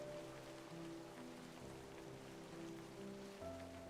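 Rain pours steadily beside a shore in This Sad Parade, a constant soft hiss of drops under gentle tonal music, with no talking.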